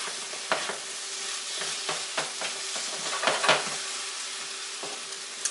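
Scrambled eggs cook in a pan with a continuous close sizzle, broken by repeated soft scrapes and taps as a utensil stirs and breaks them up.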